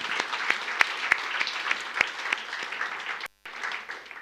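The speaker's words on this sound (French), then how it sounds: "Vous pouvez vous applaudir tous les donateurs." An audience applauds the donors at a church fundraising gathering, a steady patter of clapping with a few sharp, close individual claps standing out, broken by a brief silent cut.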